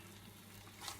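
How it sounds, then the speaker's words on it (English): Onions and curry base sauté in a pan for chicken curry, giving a soft, steady low sizzle that swells briefly near the end, close and quiet, with no voices. "Just saute it off a bit."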